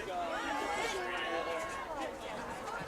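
A sellout crowd at a Thanksgiving high school football game at Smith Field murmurs in a steady babble of overlapping voices, a continuous hubbub of chatter from the stands on a fine day.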